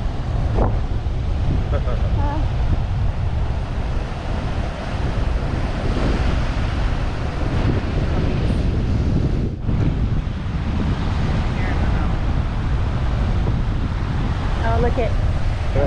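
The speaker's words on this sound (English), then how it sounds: "The ocean's a little rougher today." Rough ocean surf at a beach roars steadily and loudly throughout, heavy with wind buffeting the microphone, with no clear voices.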